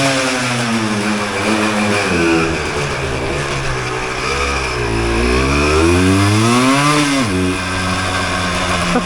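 A 1988 Yamaha DT200 two-stroke enduro motorcycle engine revs hard and loud, its buzzing pitch climbing and falling through several gear changes as it rides, up close with no talk.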